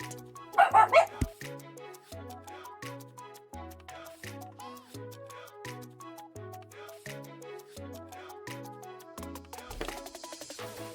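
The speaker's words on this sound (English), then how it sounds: "Dogs are being loud as fuck." Dogs bark and yip in a loud burst near the start, then fainter yelps and whimpers come through under a steady music bed.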